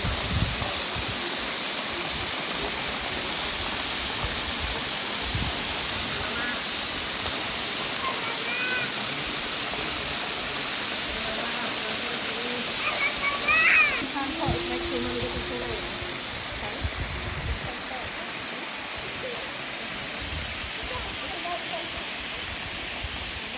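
Spring water at Epta Piges on Rhodes, Greece, rushing as a mini waterfall and making a loud, constant broadband roar throughout, with faint bird calls and brief human sounds in the background.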